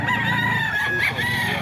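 A Thompson White rooster gives one close, loud crow with a rising then sustained call, and rough barnyard noise sits beneath it.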